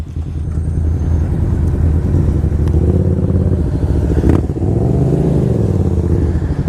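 A Kawasaki Ninja 250R motorcycle runs steadily at speed, its engine drone loud and continuous with a brief surge in pitch midway, heard from on the bike with no talking.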